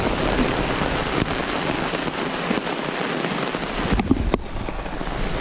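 Downpour on a canoe camping trip in Algonquin Park, steady heavy rain hissing and drumming on a tarp close by, continuous throughout with a few louder drops and knocks.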